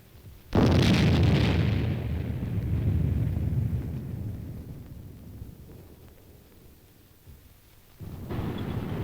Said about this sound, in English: simulated atomic explosions add realism to the maneuver